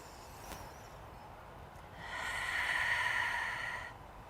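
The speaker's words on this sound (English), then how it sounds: "Deep breaths in, 2 deep breaths" A slow, deep breath during a yoga session, a soft breathy rush swelling and fading over about two seconds after a quiet pause, close and alone.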